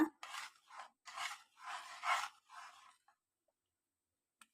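A spoon scrapes and rubs through thick beetroot halwa with cardamom powder in a pan, making a series of close, gritty rasping strokes in an uneven rhythm before stopping, followed by near silence and one faint click.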